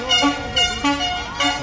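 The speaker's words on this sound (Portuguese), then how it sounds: "Um verdadeiro buzinaço" Car horns honk at a residents' protest over sewage smell and beach pollution in Candeias: several loud toots in quick succession, each short and roughly evenly spaced.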